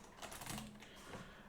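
Typing on a computer keyboard while entering a plugin search in Unreal Engine 5.3, a quick run of soft, quiet key clicks heard alone.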